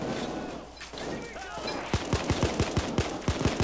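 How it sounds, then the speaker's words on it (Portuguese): Gunfire in the video game Payday 2: after a murky stretch of background noise, a rapid burst of about a dozen sharp shots rings out in quick succession, loud and close. "só tô dando tiro aqui pra todo lado"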